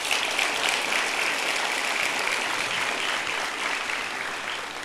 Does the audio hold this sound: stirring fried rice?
no